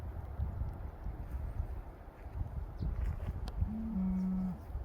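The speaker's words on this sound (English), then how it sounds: "I can hear them mooing in the background." A single low cow moo rises out of steady outdoor rumble near the end, moderately distant, with faint rustling and footsteps before it, on a mountain hiking trail at Laguna Mountain near San Diego.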